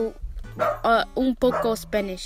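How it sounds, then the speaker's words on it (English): A pet dog barks in a home, a few short barks mixed in with someone talking casually over them. "Oh, my dog is barking."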